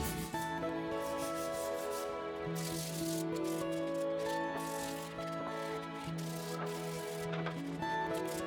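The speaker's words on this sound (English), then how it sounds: "quite a bit of hand sanding to remove any chip out and burning from the routed edge" Hand sanding along the routed edge of a wooden end grain cutting board to remove chip out and burn marks. The steady, continuous rubbing scratch sits under sustained background music, with no talking.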